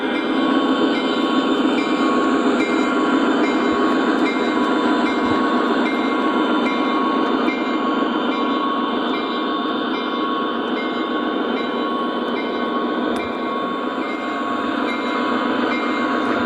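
An O gauge model train rolls through a layout crossing with a loud, continuous rumble and whir that holds steady throughout, with faint metallic ticks scattered across it.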